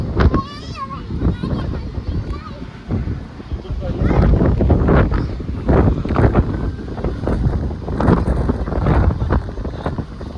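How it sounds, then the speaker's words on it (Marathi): Strong wind buffets the microphone in heavy, gusting roars at a hilltop fort near a waterfall in the evening, with people talking over the rushing gusts. "खूप जास्त हवा आहे."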